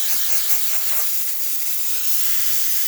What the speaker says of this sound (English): Really nice steam wand.